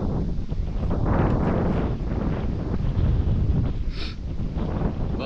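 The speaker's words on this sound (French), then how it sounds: "le vent il est secteur nord comme je vous disais" Steady north wind buffeting the microphone on a packraft trip, a constant rough rumble and rush with gusty swells and no pauses, close and fairly loud throughout.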